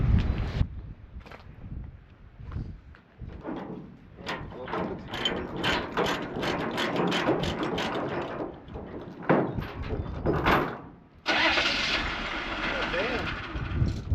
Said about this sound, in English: The old diesel will start.